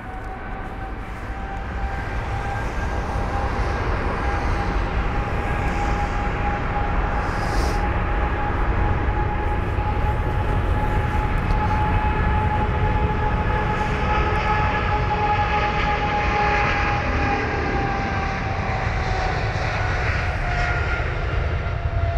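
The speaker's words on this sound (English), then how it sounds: "And so that was the British Airways 777-200ER heading to Chicago with flight number BA295" A British Airways Boeing 777-200ER takes off at London Heathrow, its engines a loud, steady roar with a sustained whine held throughout, broad and unbroken from start to finish.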